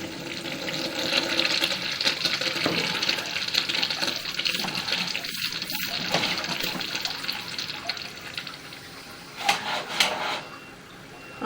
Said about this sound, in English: We're going to give the urinals a flush here.